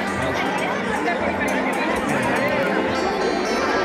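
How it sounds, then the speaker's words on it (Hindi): A huge crowd gathers at Narendra Modi's road show in Bareilly, a dense, steady hubbub of many voices chattering together at close range without pause. "लाखों लोगों की भीड़ आप लोग देख सकते हैं दोस्तों"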